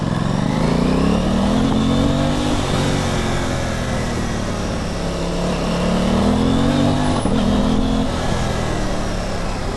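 Aprilia Tuono 660 motorcycle engine running steadily while riding, loud and close throughout, its pitch rising and falling as the throttle opens and eases, with wind roar over it and a brief sharper blip near the end.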